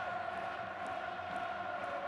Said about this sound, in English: Listen to this crowd, soak it up.